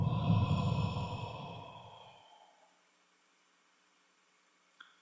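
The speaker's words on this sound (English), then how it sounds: "And breathing out slowly." Slow, breathy exhalation during guided meditation, loud at first and fading into near silence over about three seconds, followed by a faint brief click.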